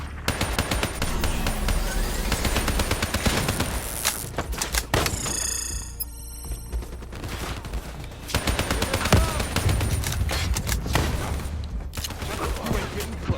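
Dense rapid gunfire in Black Ops III, near and loud, bursting almost nonstop across the whole span with a short lull midway filled by a mechanical whine, with faint voices mixed in.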